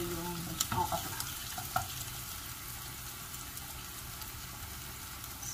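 Okra (lady's finger) fries in a pan with a steady, even sizzle that holds throughout, broken by a few faint clinks of stirring near the start.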